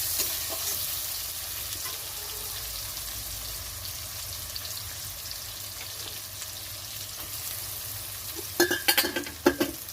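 Onion and garlic fry in a pan with a constant close sizzle and stirring, ending in a short run of loud clattering scrapes.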